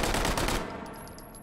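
Open-bolt gun firing +P ammunition in a video game, a dense, loud burst of rapid automatic shots that cuts off after about half a second, leaving a fading echo.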